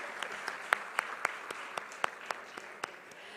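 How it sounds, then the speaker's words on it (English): A sparse audience at a business awards evening in Kolkata claps quietly, with a handful of distinct sharp claps standing out over a soft, distant patter. "Can we have a huge round of applause for all these wonderful people?"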